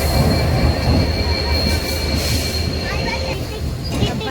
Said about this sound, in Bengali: এই যে দেখো ট্রেন ঢুকে পড়লো